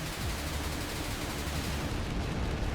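Dense, continuous cannon and gun fire from the shoot 'em up game CollidEscape, loud and sustained for the whole stretch with no pause and no talk.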